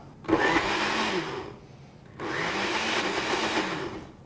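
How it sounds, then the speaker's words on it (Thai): A blender whirs loudly in two long bursts with a short pause between, grinding and rattling as ice is crushed. "ปั่นให้ตัวน้ำแข็งของเราเนี่ยนะครับ มีลักษณะเป็นครีมๆใช้ได้แล้วครับ"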